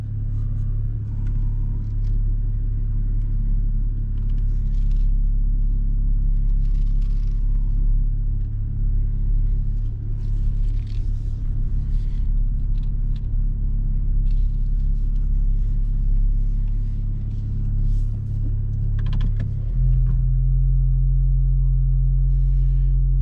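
Loud, steady idling Jeep Wrangler Rubicon engine with the muffler removed, a deep rumbling exhaust drone and a shift to a lower, heavier throb near the end.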